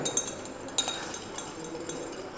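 A glass rod taps against a glass vessel while stirring cooled copper sulfate solution as liquor ammonia is added in a chemistry lab; four or five light, close clinks at irregular intervals over quiet background hiss.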